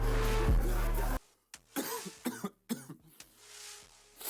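A person coughs several times in short, uneven bursts after a loud music passage cuts off. The coughs are close and fairly loud, with brief pauses between them.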